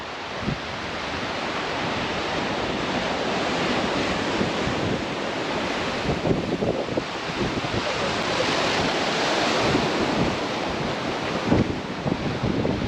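Ocean surf rolls in steadily along a Jamaican shore, a continuous loud wash of breaking waves with wind buffeting the microphone and occasional heavier crashes.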